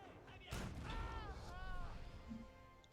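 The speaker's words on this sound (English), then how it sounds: "Captured by nothing but cannons, unmanned cannons at that." A heavy cannon blast booms at a distance in Age of Empires 4, during the French campaign of the Hundred Years War, followed by a rumbling tail while a voice speaks over it, all fairly quiet.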